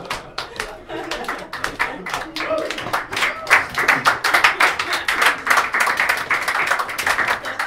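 Audience applause at a comedy show, a dense burst of many hands clapping that builds and holds steady, loud and close, with a few voices mixed in.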